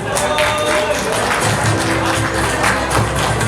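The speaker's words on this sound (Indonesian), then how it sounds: "Tepuk tangan yang meriah." Audience applause at a school graduation ceremony (haflah akhirussanah) as someone is invited to the stage, a steady, fairly loud spread of clapping with a low musical or crowd hum beneath it.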